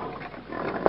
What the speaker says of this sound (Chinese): 然后猪叫